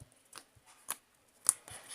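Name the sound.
slime clicking while stretched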